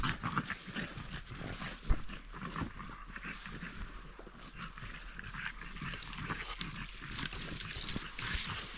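Dogs roam a Carpathian mountain forest during a mushroom-foraging walk, making close, irregular snuffling and panting bursts over soft rustling ground noise, with no speech.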